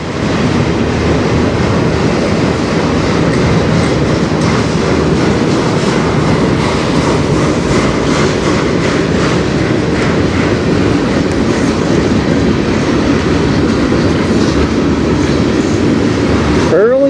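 A freight train rolls past at close range on the Strathroy Subdivision, its railcars clacking steadily and loudly over the track joints in a continuous roar.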